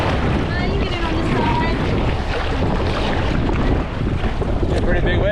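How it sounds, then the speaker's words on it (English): Ocean waves churn and slosh around a kayak off Hawaii, a steady roar of surf and water mixed with heavy wind buffeting the microphone, and voices talk faintly over it. "Pretty big waves."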